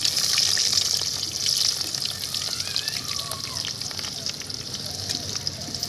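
Chopped onion added to a pan with whole cardamom while making chicken kosha sizzles and hisses steadily, louder at first then settling into a continuous fry with faint stirring.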